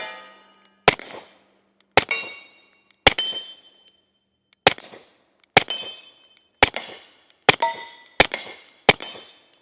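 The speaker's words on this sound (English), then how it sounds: "Let's go ahead and take a few more shots with the suppressed SIG 1911 Series X." A suppressed SIG 1911 Series X stainless .45 pistol fires nine sharp, ringing shots at an uneven pace, each a close, loud crack with a short metallic ring, and no speech.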